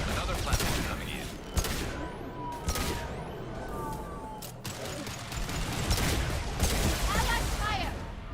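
Gunfire in the Mass Effect 2 video game crackles in rapid bursts and sharp shots, with booms and a voice talking throughout.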